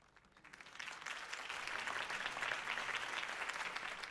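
Crowd applause at a campaign rally in the Batman Telltale game rises from a soft start into sustained, dense clapping that carries on steadily at a moderate distance.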